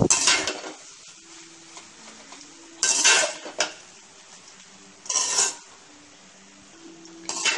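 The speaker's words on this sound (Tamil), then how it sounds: "ரைஸ் வந்து உடஞ்சிடாம நல்லா சாஃப்டா கிண்டணும்" Basmati fried rice is stirred in a pan in three or four short scraping, rattling bursts with a soft sizzle, close up over quiet background music.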